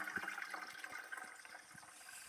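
Water flowing from a hand pump without any pumping, a faint close gurgling trickle with small splashes and bubbling, brief and alone.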